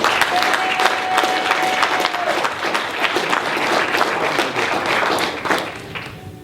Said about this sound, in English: I want y'all to give a strong round of applause for our brother,